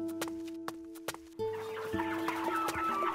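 Several cartoon barnyard chickens cluck close by, short sharp calls at first, then overlapping clucking and squawks filling the barnyard.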